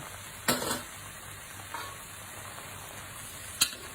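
Parboiled rice noodles are stir-fried in a hot pan, a low steady sizzle broken by three sharp spatula scrapes, the first two close together and the last near the end.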